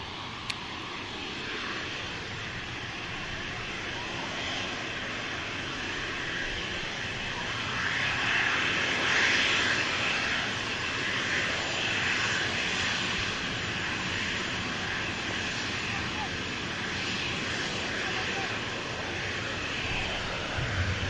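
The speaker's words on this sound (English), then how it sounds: "And the Emirates continuing the climb out as well" An Emirates airliner climbs out after takeoff, a steady distant engine roar that grows slightly louder midway and then holds as a broad, even rumble.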